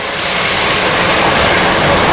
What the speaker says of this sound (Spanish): Le vamos a poner tantita agua.